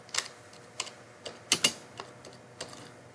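Keystrokes on a computer keyboard while a device name is entered into a TP-Link router's MAC address filtering page, a few sparse, uneven clicks with a couple of sharper double taps, close and fairly quiet with no voices.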